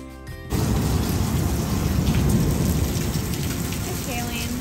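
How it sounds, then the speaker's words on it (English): Steady heavy rain with rolling thunder during a storm on a Destin, Florida vacation, a loud, dense wash of rainfall with low rumbling that begins abruptly after a brief quiet moment and continues throughout. "Is that rain?"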